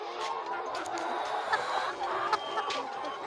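Hens cluck softly and repeatedly on a layer poultry farm, a steady murmur of many birds at moderate distance with a few sharper calls standing out.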